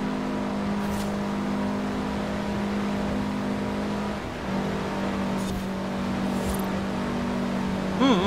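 A car drives on snow in the racing game Forza Horizon 4, its engine holding a steady droning hum with slight pitch shifts, a faint swell near the end, and no talk over it.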